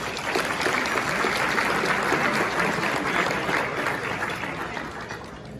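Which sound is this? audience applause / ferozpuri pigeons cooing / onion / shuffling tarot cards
audience applause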